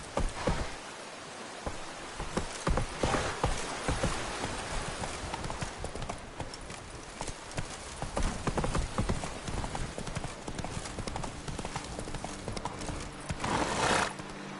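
Roach the horse gallops in a video game, with loud, steady, fast hoofbeats running throughout and an occasional whinny breaking through near the end.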